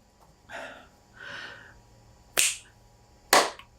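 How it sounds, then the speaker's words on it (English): Two sharp hand claps about a second apart, close and loud, following a couple of audible breaths in an otherwise quiet room. "I will then do that thing where I clap my hands and then I'll pause a little bit."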